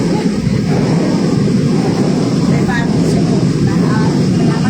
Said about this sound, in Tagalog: Meron pang isang tren na dumadarating sa likod ko.